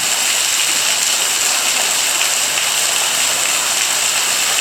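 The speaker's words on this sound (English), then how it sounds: "Here's a good view of the waterfall as it comes off the top of the rock shelter." Waterfall pouring off the top of a rock shelter near the Mokelumne River, a steady, loud, broadband rush of falling water that holds constant throughout with no voices.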